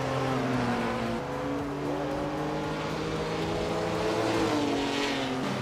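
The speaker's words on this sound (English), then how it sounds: "Wrath 92 is driving a Fiat 131 Abarth, known for its nimbleness and sharp handling" A Fiat 131 Abarth rally car in a racing video game drives hard, its engine droning loud and steady with shifting revs and no pauses.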